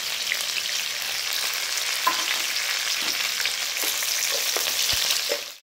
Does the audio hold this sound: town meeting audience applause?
no